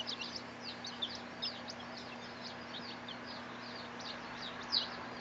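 Baby chicks peep softly in a scattered chorus of short, high chirps while foraging and drinking, faint and close, over a low steady hum of a brooder or fan.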